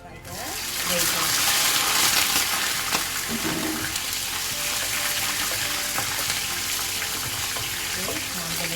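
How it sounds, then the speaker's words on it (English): Raisins frying in hot oil for a chicken biryani, a bright continuous sizzle that swells in the first seconds and then settles into a steady crackling hiss with faint stirring clatter. "I'm going to fry the raisins."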